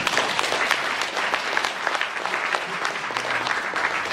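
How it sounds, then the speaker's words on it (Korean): An audience at a forum applauds with dense, sustained clapping that holds at a steady level for several seconds, close and fairly loud, with no talking over it. "다시 한번 박수 부탁합니다"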